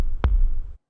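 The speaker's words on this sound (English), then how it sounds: "I added a random kick that I found on FL Studio," A single stretched kick drum sample from FL Studio, a sharp low thump that opens into a long, smeared low rumble and then cuts off abruptly, heard alone without other sounds.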